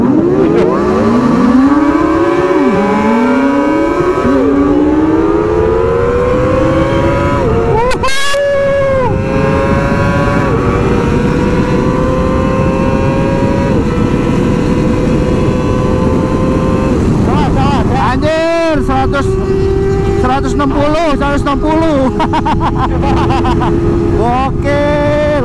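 A group of Kawasaki ZX25R sport bikes touring on the Pantura road rev hard, their high-pitched engine wails climbing through repeated upshifts under steady wind roar, with other bikes swelling past and voices talking over the noise.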